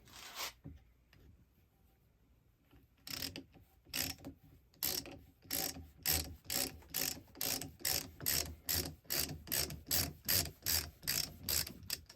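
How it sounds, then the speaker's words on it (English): A speed ratchet handle drives a 1/4 tap socket into PVC, starting with a few scattered clicks, then settling into a steady run of loud, rhythmic ratcheting strokes close up with no talking. "test it out with the speed ratchet handle on this 1/4 and just into some PVC"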